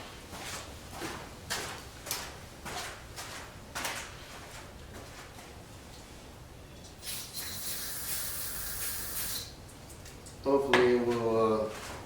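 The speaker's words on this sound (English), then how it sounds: "spray some little go-go juice at the carb" Starting fluid from an aerosol can hisses in a steady broadband spray at the carburetor of a 1979 Triumph Spitfire, lasting a couple of seconds after a few scattered clicks and knocks, followed by a brief louder mechanical sound.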